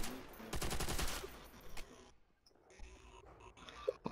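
AK rifle firing in World at War Nazi Zombies: a rapid burst of automatic shots for about a second, fairly faint, followed by quieter game ambience and a few scattered clicks.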